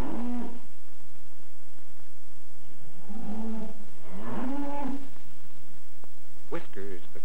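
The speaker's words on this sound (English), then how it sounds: "Father is feeding the milk cows." Milk cows in a barn lowing while being fed, several drawn-out moos at intervals, fairly close and clear over a quiet hum, with a narrator talking at the end.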